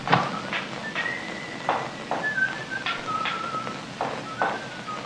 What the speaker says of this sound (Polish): A może by tak Terminator zlazł z tej drabiny i przestał gwizdać